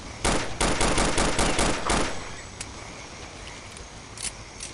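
Counter-Strike: Condition Zero (2004) AK rifle fire in a rapid automatic burst of about nine loud, sharp shots, followed by quieter game ambience and a faint distant shot.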